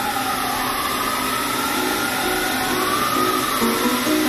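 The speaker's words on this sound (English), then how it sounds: "I'm sorry, the sirens are blaring." Emergency vehicle sirens in New York City wailing from a distance over a steady rumble of traffic, with rising and falling tones layered together.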